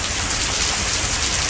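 Steady, dense rain pours down in a weather fail scene, a loud, continuous wash of droplets with no pauses.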